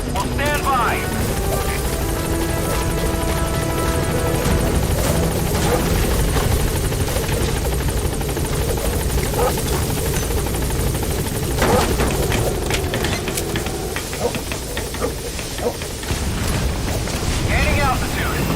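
The Pequot helicopter from Metal Gear Solid V sets down at a landing zone, its rotor thudding loud and constant with a deep engine drone throughout, while a voice speaks over it.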